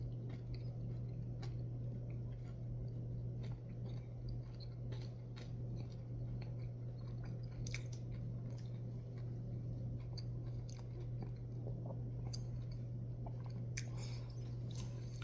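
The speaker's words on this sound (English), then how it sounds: "Good crunch on them." Close chewing of crunchy Charley's Scorpion Sting chicken wings, with soft crunches and wet bites repeating irregularly over a steady low hum, without talking.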